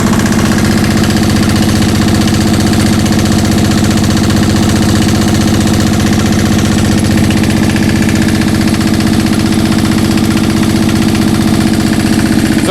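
Diesel engine powering a 22-foot pole Christmas tree runs steadily at idle, a loud, close, rhythmic knocking throb that holds constant with no talk over it.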